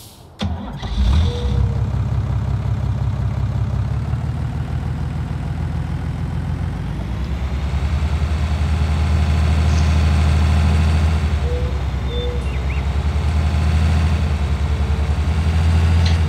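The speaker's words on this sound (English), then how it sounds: "So we've got some different coloured tractors. Let's jump in this one." A tractor engine in Farming Simulator 19 starts up and settles into a steady, loud idle hum that runs throughout, with slight swells in pitch.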